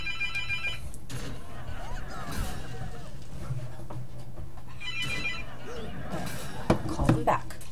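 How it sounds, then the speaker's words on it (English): A phone rings in short repeated bursts at the start and again midway, while voices murmur and handling noises clatter nearby. "Ringing."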